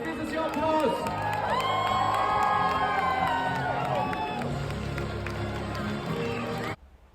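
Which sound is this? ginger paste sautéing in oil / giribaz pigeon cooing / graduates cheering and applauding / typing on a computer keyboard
graduates cheering and applauding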